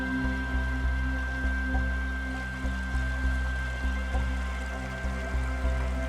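A freestone trout stream in winter, at freezing temperature amid snow, flows with a steady close burble and rush, with faint regular thumps beneath the water sound.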